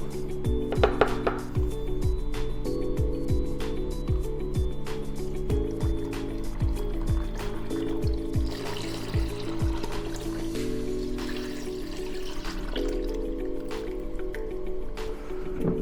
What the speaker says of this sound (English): you need to pour it over the fruit